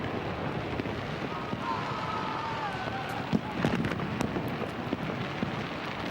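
Fireworks burst over London at the New Year 2000 celebrations, a run of sharp distant bangs and crackles from about three seconds on, rising above a steady roar of wind and crowd noise.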